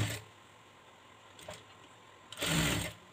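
A sewing machine stitches along the folded edge of a blouse border in short bursts, a brief run early, a faint one in the middle and a louder, fuller run near the end, with quiet pauses between.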